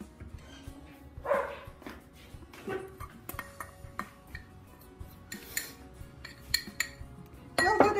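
Salt cod fritter mixture of potato, cod and black pepper being stirred in a bowl, scattered light clinks and scrapes of a utensil against the bowl, fairly quiet and irregular.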